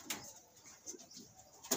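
Pigeons in a loft, soft low cooing heard faintly with brief wing flutters and bird calls at the start and end, no talk.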